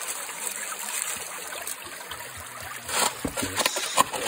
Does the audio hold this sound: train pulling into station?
no